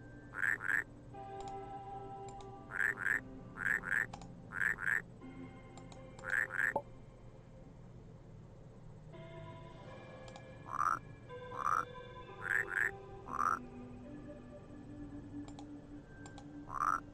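Frogs croak in the puzzle game Rusty Lake Paradise, short repeated croaks in small bursts over soft game ambience and occasional clicks.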